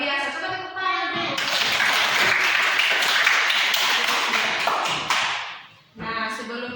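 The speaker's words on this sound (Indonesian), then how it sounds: "Coba tepuk tangan dulu." A classroom of children clapping hands together at a teacher's request, a dense burst of applause lasting several seconds between stretches of someone speaking.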